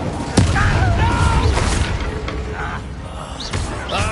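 A fire spell bursts in the Hogwarts Legacy video game, a sharp loud boom followed by crackling, whooshing combat effects and further thuds, with a voice speaking over the action.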